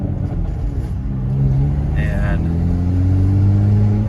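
A Hyundai Veloster N fitted with a Mopar valve spring exhaust, driven on the road in normal mode, gives a steady low exhaust drone that swells slightly as the drive goes on, heard beneath someone talking.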